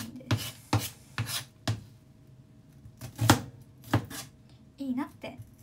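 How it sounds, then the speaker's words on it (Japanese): A knife chops through an onion on a cutting board in distinct, loud thuds, a few quick strikes, then a pause, then another short burst of cuts. "芯を切っていかないとね。 これはね、玉ねぎを"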